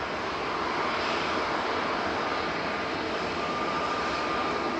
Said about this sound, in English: Heading back down to London Heathrow with flight 1407. This is GNEOZ, a 4-year-old A321neo.